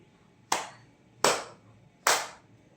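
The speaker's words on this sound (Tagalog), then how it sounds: "bigyan din natin siya ng 3 palakpak" Three sharp, evenly spaced handclaps ring out in a classroom as applause for a student, each a crisp, close burst with a brief decay and a quiet room between them.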